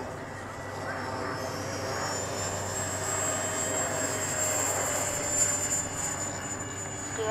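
Freewing F-104 model jet taking off, a continuous whining electric ducted-fan roar heard at moderate distance, steady with slight swells throughout.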